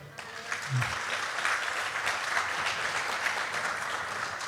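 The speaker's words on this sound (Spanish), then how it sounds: "Dale un aplauso al Rey." A church congregation breaks into sustained applause, dense and steady clapping that follows a brief voice at the start.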